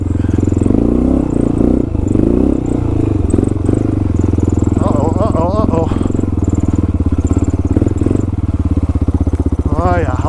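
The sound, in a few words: motorcycle riding through mud, wheelie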